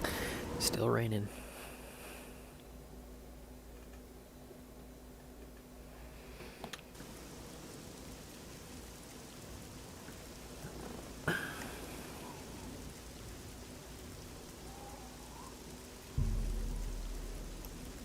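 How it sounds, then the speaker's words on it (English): Steady rain falls in a video game, a soft continuous hiss running the whole stretch with a few brief louder thumps breaking through; no one speaks. "Still raining."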